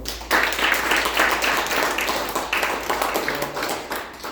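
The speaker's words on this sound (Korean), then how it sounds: "다시 한번 박수 한번" Audience applauding after a law lecture at a peace university talk, a steady dense patter of many hands clapping at moderate loudness for several seconds, with no talk over it.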